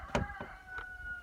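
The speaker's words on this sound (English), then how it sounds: "That's my rooster." A backyard rooster crows nearby, a short loud call rising out of quiet farmyard background, with a second fainter burst following.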